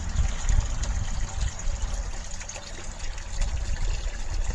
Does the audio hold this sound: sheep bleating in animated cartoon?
no